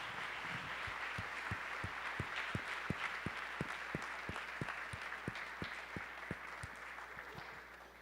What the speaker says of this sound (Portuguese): Você podia dar um aplauso às pessoas que servem o ministério infantil?